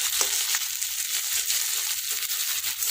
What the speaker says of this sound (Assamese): এতিয়া কলিজাটো ভাজি হৈ আছে